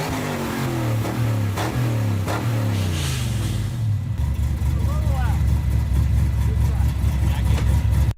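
A 4x4 Trans Am fitted with a Corvette engine revs loudly, its pitch winding down through a few falling sweeps before settling into a deep, steady rumble, with a voice heard over parts of it.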